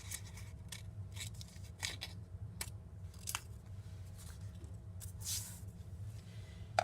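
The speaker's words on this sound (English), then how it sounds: "we're going to cut where the fold is" Scissors snipping paper along a fold for a collage, a string of irregular quiet cuts close by against a low background hum, with no speech.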